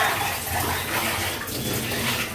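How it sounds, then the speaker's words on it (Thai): Water runs continuously to rinse out a stone mortar in a kitchen, a steady close splashing and pouring with no pause and no talk. "น้ำล้างครกค่ะ ก็อย่าลืมล้างครกนะคะ"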